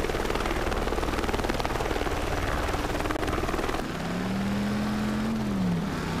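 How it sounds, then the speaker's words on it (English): A news helicopter in the Driver San Francisco video game thrums loudly, its steady rotor chop dominating, then a rising and falling engine whine takes over partway through. "assist officers under fire from a goddamn news chopper"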